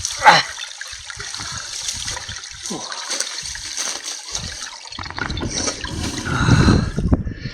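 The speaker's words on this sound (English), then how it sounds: "I've got is can't lower my water bottle far enough. It's nearly full." Water trickles and splashes as a water bottle is lowered into a stream and fills; there is a sharp knock at the start, and a louder burbling gush near the end, close by with no speech.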